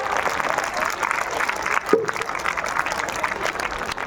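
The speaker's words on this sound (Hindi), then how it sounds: "Please do clapping for motivating the students." Another round of audience clapping for students waiting behind a stage curtain, a steady mass of hands from a crowd, with a brief voice cutting through near the middle.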